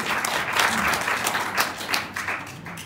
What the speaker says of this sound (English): can we have a big round of applause for the three amazing ladies again?